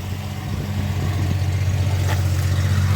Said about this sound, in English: The heat riser rattles in it too.